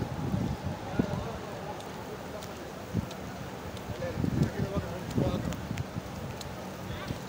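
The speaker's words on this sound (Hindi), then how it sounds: "बारिश हो चुकी तेज़" Heavy rain falls at Masjid an-Nabawi, a dense steady hiss and patter with scattered sharper drops and splashes nearby, under faint indistinct background voices.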